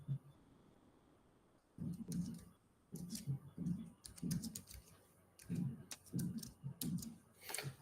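Quiet bursts of clicky keystrokes on a computer keyboard come in short rapid runs with brief pauses as a password is retyped, with faint background hum.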